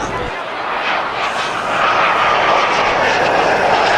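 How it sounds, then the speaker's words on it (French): A Fouga CM-170 Zéphyr naval jet roars past at speed during an airshow in Avignon, its loud engine noise swelling and holding strong, with a voice talking over it. "Voilà le Zéphyr, à la vitesse, lors de la patrouille de l'aéronautique navale."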